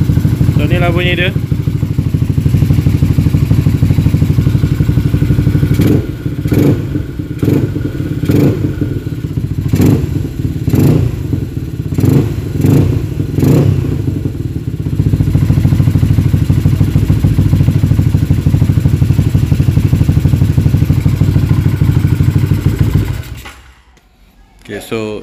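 A freshly installed motorcycle engine runs at a mobile workshop, idling steadily with a loud, continuous drone and a series of rhythmic clattering knocks mid-run, before being shut off abruptly near the end.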